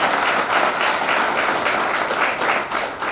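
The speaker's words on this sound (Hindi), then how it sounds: "इनके लिए एक जोरदार तालियां हो जाए इनके सम्मान में" Audience at a leaders' speech event applauds to honour a photographer, a loud, dense clapping that runs steadily throughout with a slight pulsing rhythm.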